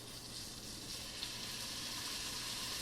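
Steady, soft sizzling of chicken skewers in a preheated frying pan, a continuous hiss with no pauses and no voices.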